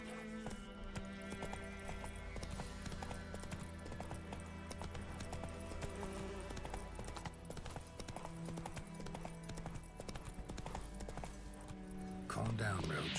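Horse galloping in the video game The Witcher 3, a steady clip-clop of hooves mixed under game music, with a voice speaking over it near the end.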